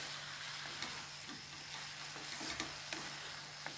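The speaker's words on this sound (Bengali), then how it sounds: "একটু নাড়িয়ে দিচ্ছি।" A mixed vegetable curry, cooked with little oil and softened under a lid, is stirred in a pan, giving a soft, steady simmering hiss with a few faint spoon scrapes and clicks.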